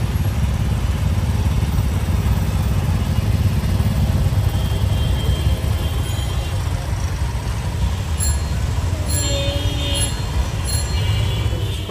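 A motorbike rides through a Dhaka city street at night, its engine droning steadily and loudly throughout, with faint traffic sounds in the background.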